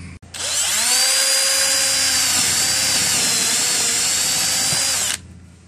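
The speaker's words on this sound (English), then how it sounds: "I'm going to pre-drill these holes" A power drill bores pilot holes for large screws in wood on a vintage travel trailer door stop, a loud steady high whine lasting about five seconds before stopping abruptly.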